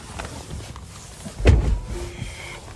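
Someone settles into the driver's seat of a 2024 Tesla Model 3 Long Range RWD: soft rustling and movement, with one solid thump in the middle, nearby and without speech.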